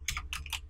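Close-up keystrokes on a computer keyboard while setting up Vulkan with GLFW on Linux, three quick clusters of clicks over a low background hum, no voices.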